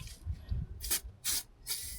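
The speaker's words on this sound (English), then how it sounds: "I also sprayed some WD-40 just inside." Three short bursts of WD-40 lubricant spray hiss at a steady rhythm while servicing a Mercedes-AMG's Bosch 010 pump, close and fairly quiet, separated by brief pauses with faint low rumbling between.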